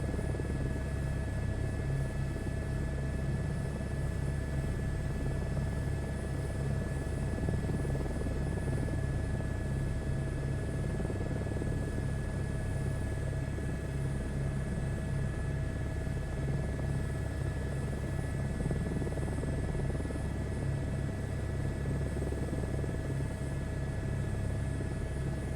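Helicopter hovering in Microsoft Flight Simulator 2024, a steady droning rotor and engine rumble with a constant high whine, unchanging and continuous throughout.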